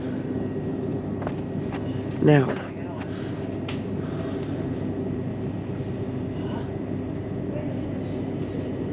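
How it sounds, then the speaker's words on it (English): Great Northern class 387 electric train pulling slowly out of King's Cross, low steady rumble and hum from inside the carriage, a brief louder squeal or tone near the start, and a short spoken word. "we're slowly leaving King's Cross on the Great Northern 387"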